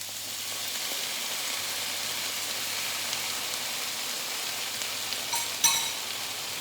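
Onions fry in a pan with a little balsamic vinegar just added, giving a steady, even sizzle and hiss throughout, close and moderately loud, with a brief sharper crackle near the end and no talking.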